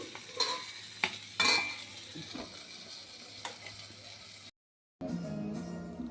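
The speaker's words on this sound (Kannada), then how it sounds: "ಒಂದು ತವಾ ಇಟ್ಟು ಅದಕ್ಕೆ ಎಣ್ಣೆ ಹಾಕಿ ಸ್ವಲ್ಪ ರವೆ ಎಲ್ಲ ಸಣ್ಣ ರವೆನ ಮೀನಿಗೆ ಮೇಲೆ ಕೆಳಗಡೆ ಮಾಡಿ ಹಂಚ ಮೇಲೆ ಹಾಕಬೇಕು." Rava-coated bangda mackerel fries in oil on a tawa, a soft close sizzle broken by a few sharp scrapes and clicks, with a brief drop to silence near the end before the frying resumes.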